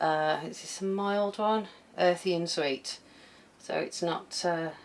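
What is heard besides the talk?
No distinct noise like a dog, phone or traffic.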